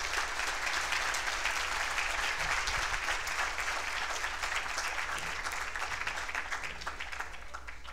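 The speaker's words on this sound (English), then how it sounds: "Please join me in another round of applause." Conference audience applauding after a progressive political speech, a broad continuous wave of clapping from a large crowd that holds steady and slowly tapers, heard from within the room.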